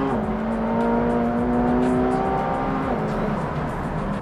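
McLaren supercar engine pulling hard at full throttle, a loud, close, sustained roar whose harmonic whine climbs steadily and then steps down briefly as it shifts near the end.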